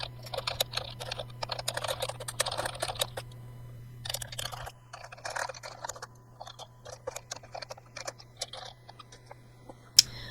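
Quick, uneven bursts of key clicks on a computer keyboard while someone types code, close and fairly quiet over a steady low hum, with short pauses between runs of keystrokes and no talking.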